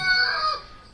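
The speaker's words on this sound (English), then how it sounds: "I'm sorry about the rooster." A rooster crows once at a distance, a brief, fading call on its own.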